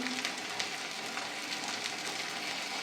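Tomato frying in a pan with salt while cooking bata fish rosa, giving a steady close sizzle with crackling pops and occasional soft stirring scrapes.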